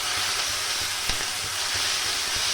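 Spices and tomatoes sizzle and fry in a pan, a steady close crackling hiss with small pops, heard alone without talk.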